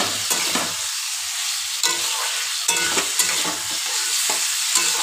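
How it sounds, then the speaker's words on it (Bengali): Potatoes and pointed gourd are stir-fried in a pan, giving a steady close sizzle with regular scraping stirs throughout and no talk. "আলু পটলটাকে ভালো করে কষিয়ে নেব।"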